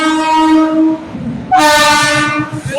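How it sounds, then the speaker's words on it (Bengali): Trains pass at Khemashuli and sound two loud, sustained horn blasts, the second one sharper, with a low rumble of the passing cars between and after them. "এত ট্রেন"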